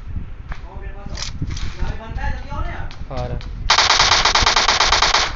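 Rapid automatic M4 rifle fire in a battle royale video game, a loud continuous burst of shots starting partway through after quieter game effects and talk.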